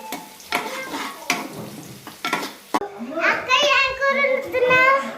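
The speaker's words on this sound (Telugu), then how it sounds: "కరివేపాకు వేసుకున్న తర్వాత బాగా కలుపుకోండి." Curry leaves fry and crackle in a pan while being stirred, sharp sizzling bursts with scraping strokes, fairly close, with voices talking throughout.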